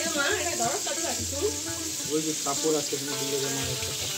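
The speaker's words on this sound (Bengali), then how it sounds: "মাছ ভাজছো নাকি?" Hilsa fish frying in a home kitchen, with a soft continuous sizzle running beneath people talking throughout.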